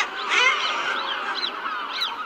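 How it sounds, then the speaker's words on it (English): A noisy guillemot seabird colony played back from a recording, dense overlapping harsh honking and growling calls, loud and continuous with no speech. "just to give you a feel for what it's like in a guillemot colony, I've got a little bit of video here. It's very noisy."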